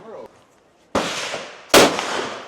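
Two sharp, loud AK-47 rifle shots ring out at an outdoor shooting range, each a sudden crack followed by a long echoing decay, spaced about a second apart, with a brief voice heard just before.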